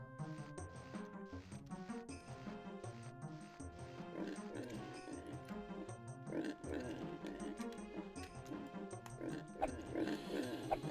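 Pigs in the video game Daggerfall oink and grunt in a quick, repeated string of snorts, fairly close and clear over faint background tones.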